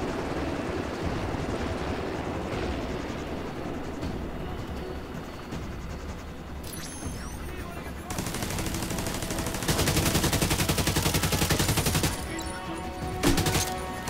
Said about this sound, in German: Ich habe einen Heli mit Verstärkung geschickt.